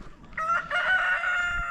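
A rooster crows loudly and close near a chicken coop on a rural property, a single drawn-out call with no voices.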